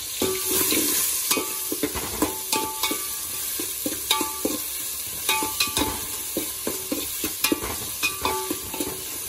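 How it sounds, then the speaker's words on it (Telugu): Chopped onions and vegetables fry in hot oil for street-style noodles, hissing and sizzling up close while a spatula strikes and scrapes the pan in quick, uneven clatters. "ఆయిల్, మన ఆనియన్స్ కొంచెం గోల్డెన్ బ్రౌన్ వచ్చే వరకు ఫ్రై చేసుకోవాలి."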